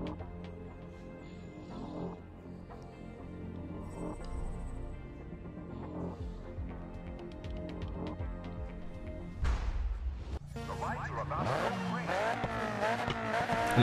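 A Nissan race car in the video game Grid 2 revs and drifts, its engine droning steadily with rising pitch sweeps, then tires squeal loudly near the end as the car slides sideways, with no voices.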